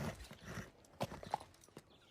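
Horse hooves clip-clopping in the anime Vinland Saga, a few soft uneven hoof knocks at a walking pace, faint and close with no voices.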